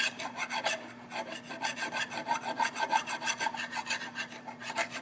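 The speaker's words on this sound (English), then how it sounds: "To file the back side. Why? So that there's no burrs." A hand file rasps across the back side of drilled metal to clear burrs, giving a rhythmic series of gritty scraping strokes, close and steady, with a faint hum underneath.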